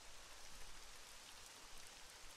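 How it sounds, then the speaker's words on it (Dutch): Rain falls in Rollercoaster Tycoon 3 as a steady, soft hiss of drops spread evenly across the whole stretch, faint and continuous, with no talking. "En nu regent het ook nog eens een keer."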